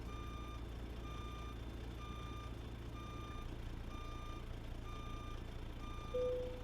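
A truck's reversing alarm beeps in a steady, evenly spaced rhythm over a low engine idle while it backs a lowboy trailer into a parking spot in American Truck Simulator.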